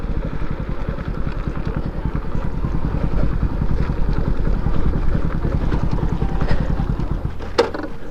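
A motorcycle engine runs steadily and close by on a solo ride to Pinapuram Konda, its loud, even pulsing throb continuing for several seconds before a brief clatter near the end as the engine note drops away.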